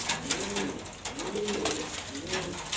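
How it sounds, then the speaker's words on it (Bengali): A pair of pigeons coos in three rising-and-falling phrases, close and moderately loud, over a soft, noisy background with no talking. "এই যে দুইটা কবুতর আছে"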